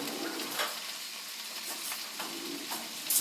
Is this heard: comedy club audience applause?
no